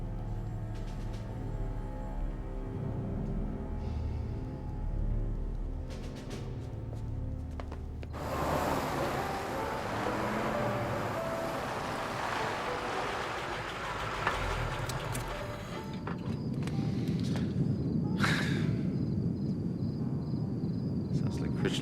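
An Orenda Iroquois jet engine on a test run at the Avro site, heard from a distance as a low drone that suddenly jumps to a broad, loud roar and then builds to a harsher, heavier blast near the end.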